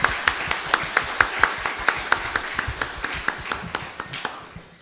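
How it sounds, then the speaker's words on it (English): A small audience at an academic lecture claps for the guest speaker, distinct rhythmic hand claps in a steady pulse, fairly close and clear, gradually softening toward the end. "applause for our guest."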